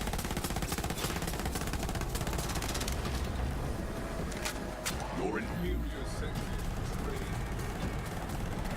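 Rapid SMG fire in Borderlands 3, used in a Fl4k build with incendiary elemental damage, comes as dense, continuous bursts that are busiest in the first few seconds, mixed with other loud game effects.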